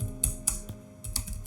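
A command is typed on a computer keyboard, with a few quick clustered keystrokes separated by a short pause, close and moderately quiet, no voices.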